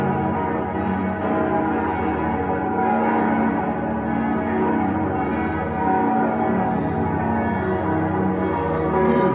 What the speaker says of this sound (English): We got bloody church bells going off